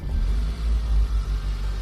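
Peugeot 104 GLS with its original period exhaust starting up, a low rumbling idle that settles in steadily, close by and fairly loud.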